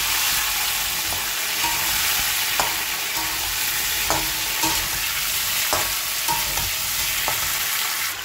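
Cubed potato and taro sizzle loudly in hot oil in a wok over a black cumin seed tempering, with a steady dense crackle broken by repeated scraping clicks of a spatula stirring throughout.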